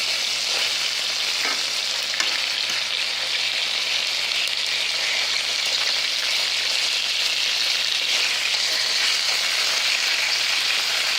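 Steak frying in a pan beside garlic-herb cream cheese fettuccine, a steady dense sizzle with crackling spits running unbroken and fairly loud throughout, no voices.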